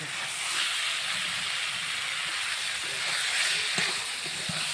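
Pointed gourd and potato fry with spices in a pan, giving a steady soft sizzle and hiss with a few faint clicks of stirring.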